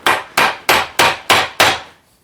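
A hammer drives a punch against a stuck part of a Brunswick GSX pinsetter universal drive assembly, six loud, sharp metallic blows in an even, steady rhythm, close up with nothing else heard.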